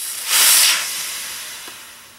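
A ball valve on a homemade pressurized fluid dispenser is opened fully, releasing a loud burst of hissing air for about half a second that then tapers into a fainter, fading hiss.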